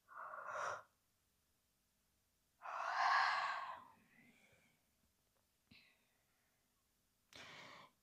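Slow, breathy yawns and exhaled sighs during a morning yoga stretch, several long airy breaths separated by quiet pauses, close and soft with no talk.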